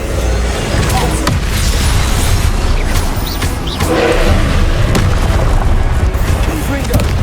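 A Repulsor spell blast in the Hogwarts Legacy video game, heard as a loud, sustained wash of booming, rumbling impacts with a dense low roar and scattered sharp cracks.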